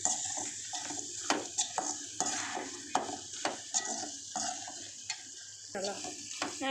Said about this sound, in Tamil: நல்லா வதக்குங்க. சிக்கன் பொடி போட்டோன்னே அடி பிடிச்சிடக்கூடாது, நல்லா வதக்குங்க.